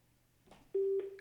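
A telephone rings in a radio studio during a live stream, a steady electronic tone in two short bursts, loud and close, with no talk over it.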